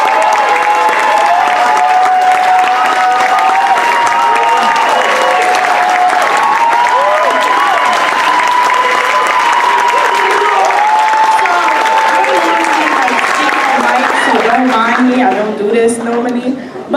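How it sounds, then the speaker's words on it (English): Crowd at a Hands Off Venezuela street march in Washington, D.C. claps and cheers steadily for a student activist, loud and sustained with whoops and voices mixed in, then fading near the end. "So give her a round of applause."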